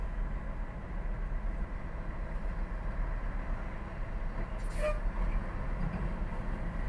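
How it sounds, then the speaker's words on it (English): A large truck rumbles past on a road, a continuous low droning roar heard up close with a brief higher rattle partway through; no voices. "I gotta wait for this truck."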